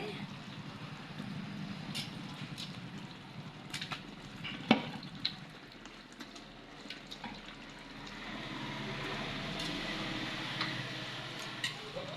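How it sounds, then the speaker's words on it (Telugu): Chicken frying in hot spice masala for a biryani, with a steady sizzle and occasional sharp clicks and stirring knocks, louder and hissier toward the end. "మసాలాలు బాగా వేగిన తర్వాత చికెన్ వేసుకోండి"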